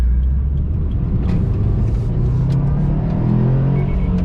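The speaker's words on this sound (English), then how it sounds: "This car is going faster." A 2019 Subaru STI on snow tires accelerates hard at wide open throttle, its engine giving a loud, continuous low roar that builds steadily with no talking.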